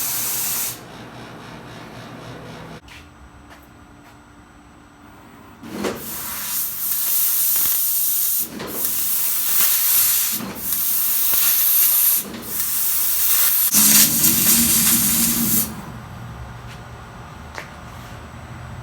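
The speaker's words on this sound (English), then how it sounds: "I'm also going to purge the oxygen real quick." Compressed oxygen purged through a plasma/oxy cutting machine's torch, loud bursts of hissing gas in several short blasts and a longer spray, close and with no talk.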